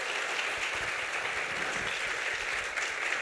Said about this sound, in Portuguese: Mais palmas para ela, gente.